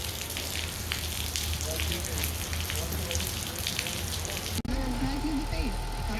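Rain falls at night near the towers in Rolla, a steady close-up patter and hiss on a surface, with a brief sharp knock near the end before a low rumble continues.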